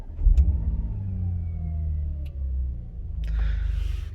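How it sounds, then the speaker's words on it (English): An Audi A5 engine catches and settles into a steady, close, low idle hum that swells slightly near the end, with no talking. "Let's start up the car."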